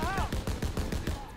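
Rapid bursts of gunfire from German soldiers in the Call of Duty WW2 video game, a rhythmic rattle of repeated shots firing in quick succession throughout.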